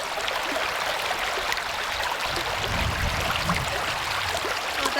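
River water flows steadily and fairly loud through the whole stretch during a failed river crossing near Cultus Lake, British Columbia, with a constant broadband rush and a low swirl in the middle.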